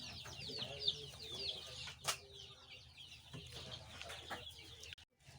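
Kadaknath and local chicken chicks on a poultry farm, peeping and clucking softly at close range with scattered faint chirps, a brief flutter of wings and a short sharp knock partway through.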